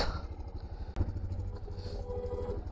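A motorcycle at the start of a mountain ride from Kargil toward Ladakh, its engine rumbling low and steady close by, with a brief clunk partway through.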